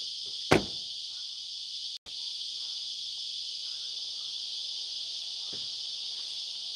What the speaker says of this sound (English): So, can you hear the cicadas?